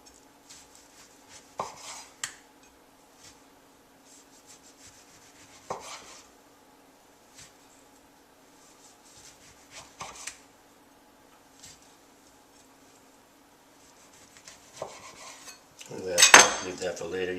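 A knife slices a fairly large tomato, with sparse soft taps on the board at intervals, then a louder flurry of close cutting and scraping near the end, without speech.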